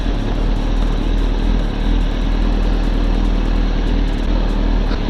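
A motorcycle cruises along with a passenger riding on the back, the engine holding a steady drone under heavy wind rush with no talking.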